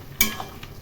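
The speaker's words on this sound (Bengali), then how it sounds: "কষানো হয়ে গেছে, এখন এর মধ্যে গরম জল ঢেলে দেবো।" Hot water splashes into a pan of frying soybean and cauliflower curry, a single sharp sizzling burst that quickly fades into a soft simmering hiss.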